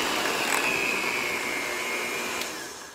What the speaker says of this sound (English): I will take an electric mixer to make them nice and fluffy